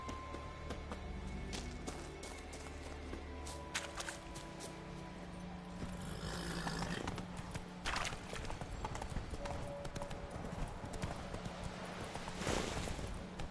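Hooves of a horse clip-clop in a steady galloping rhythm in The Witcher video game, loud and close throughout, with a brief neigh and scattered game effects layered over the running beat.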